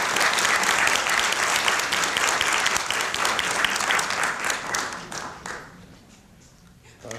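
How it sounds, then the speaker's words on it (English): An audience at a Korean cultural center forum gives a warm round of applause welcoming speaker Mark James Russell, dense at first, then thinning into scattered claps and fading to near quiet. "Ladies and gentlemen, please welcome Mark James Russell with a round of applause."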